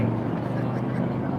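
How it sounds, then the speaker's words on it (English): A loud motorcycle passes on a city street near an ICE building protest in Portland, a heavy low engine roar that fills the whole moment at close range, with a voice talking over it. "that is a loud ass motorcycle"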